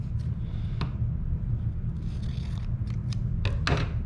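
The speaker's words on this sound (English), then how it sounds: "And for this, scissors work just fine." Scissors cutting cardboard, several sharp snipping crunches at irregular intervals with brief rustles between, close and fairly loud over a low background hum.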